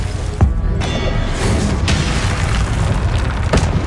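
Confringo spell blasts in a Harry Potter video game give deep, rumbling booms over a loud, dense low roar, with sharper bursts punctuating the steady blast noise.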